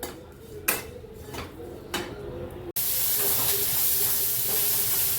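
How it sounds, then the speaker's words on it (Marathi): Ginger and grated coconut roast in a pan, with a few faint clinks at first and then a sudden loud, steady sizzling hiss that carries on to the end. "आता मी सगळं हे भाजून घेणार आहे. खोबरंसुद्धा छान असं भाजून घेणार आहे."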